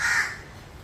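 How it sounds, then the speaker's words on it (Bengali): A single close, loud crow caw rings out at the start and then fades into a quiet outdoor background. "এই পাখিগুলো আস্তে আস্তে আসছে।"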